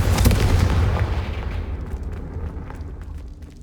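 A Confringo spell blast in Hogwarts Legacy, a deep booming explosion that hits at once and then rumbles and fades away over several seconds, loud and close.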